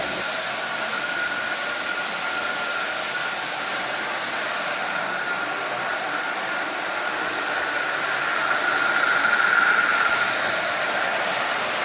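The small electric motor of a Marx 999 toy train engine whirs continuously with a steady high-pitched hum, growing slightly louder near the end, with no talking.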